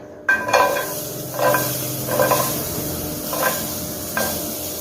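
Chopped onions sizzle and hiss in a hot pan for a capsicum curry, with a loud burst at the start and then repeated scraping stirs at a steady rhythm, close up and with no talking.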